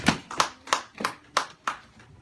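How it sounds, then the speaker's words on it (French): A church congregation claps together in a steady rhythm, six sharp, evenly spaced beats at moderate volume with no voices over them. "On acclame très fort pour la parole du Seigneur."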